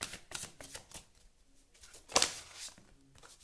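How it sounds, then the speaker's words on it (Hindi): Tarot cards are pulled and shuffled in a few soft, brief riffling and snapping bursts, close and fairly quiet, with no talking. "Let me pull out some more cards for you guys."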